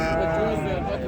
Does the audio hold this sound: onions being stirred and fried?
no